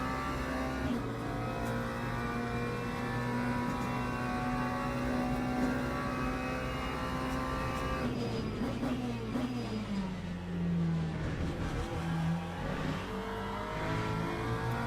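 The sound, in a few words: McLaren GT3 car at Monza in video game Le Mans Ultimate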